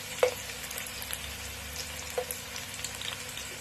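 Onions sautéing in a pan for bulalo give a quiet, steady sizzle with a couple of faint clicks from a utensil, and no one talks.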